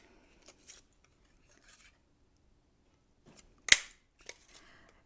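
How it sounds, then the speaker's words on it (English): A Party Punch Pack hand punch cutting balloon shapes out of paper, a few faint scattered crunches followed by one sharp loud snap of the punch and a couple of soft rustles, close up with no talk. "I'm just going to go ahead and punch out each of these balloons"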